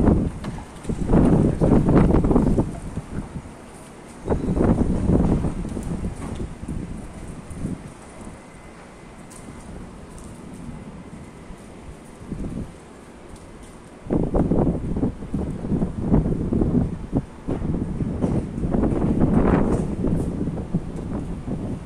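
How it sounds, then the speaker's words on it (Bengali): Strong wind roars and buffets in heavy gusts during a storm in Mecca, with calmer stretches in between. "প্রচুর বাতাস এখানে"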